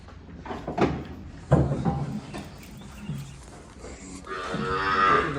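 Gir cows moo several times nearby at a cow shelter, long low calls spaced apart, with a louder, higher bellow toward the end.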